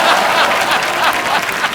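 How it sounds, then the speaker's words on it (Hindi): A studio audience at a comedy talk show breaks into a short, loud burst of clapping, dense and close, with a hint of laughter mixed in. "तालियों की गड़गड़ाहट"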